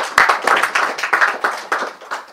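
A church congregation claps together in a steady, fairly fast rhythm of overlapping handclaps, moderately loud and close, with no voices over it.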